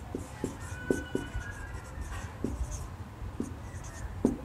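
Writing on a board during a class 11 organic chemistry lesson: a series of sharp taps and short scratchy strokes, close and moderately loud, coming in uneven bursts with no talking.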